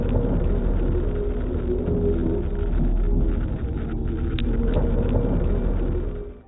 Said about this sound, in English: listen to the droning audio on the original relay file.